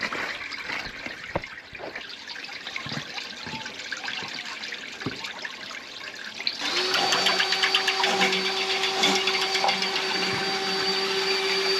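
Tap water from a bathroom sink in a pub runs steadily down a drain, a constant rushing flow that starts partway through over a low mechanical hum, with quieter background noise before it.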